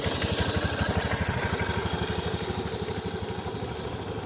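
An automatic motor scooter rides down a slippery hill at Bukit Lawangan, its small engine putting out a steady, close pulsing drone that holds level throughout with no talking.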